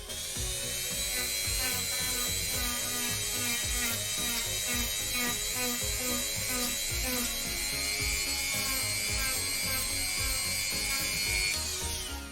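Power saw making bevel cuts on material for a cosplay pirate cutlass, a loud sustained whining buzz with rapid rhythmic chatter of the blade biting, continuous throughout.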